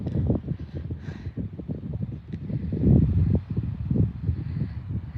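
Wind blowing at a shoreline on Haida Gwaii, low rumbling gusts buffeting the microphone steadily, swelling and easing, with no voices.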